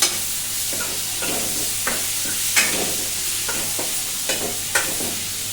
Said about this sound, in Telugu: మొత్తం అంతా ఇలా ఒకసారి కలుపుకొని ఇంకొక నిమిషం పాటు వేయించుకోవాలి.